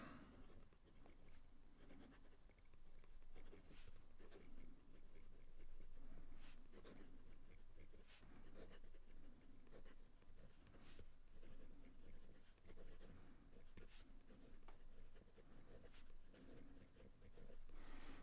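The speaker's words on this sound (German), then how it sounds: "wie hier der Füllfederhalter über das Papier gleitet" A soft, steady scratching of a fine fountain pen nib gliding across paper, close and quiet, continuing with faint irregular strokes throughout.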